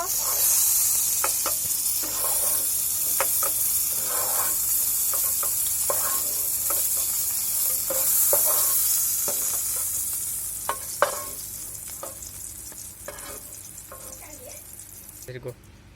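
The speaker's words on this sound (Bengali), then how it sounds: "দেখতে পাচ্ছেন পটলগুলোকে হালকা করে ভেজে নিয়েছি।" Pointed gourd (potol) pieces fry in hot oil for a Bengali mustard potol dish, giving a constant bright hiss with scattered scraping and stirring knocks that fade toward the end.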